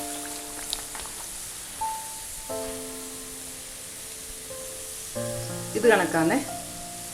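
Parippu vada, chana dal fritters, frying in hot oil give a soft steady sizzle, joined by clinks and scraping of a utensil as they are lifted, while a person speaks briefly.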